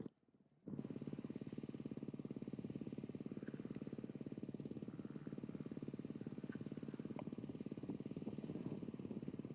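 Rally motorcycle, rider number 10, at the start of a desert rally stage at the Abu Dhabi Desert Challenge. A close engine suddenly kicks in after a brief quiet moment and then holds a loud, steady, rapidly pulsing drone.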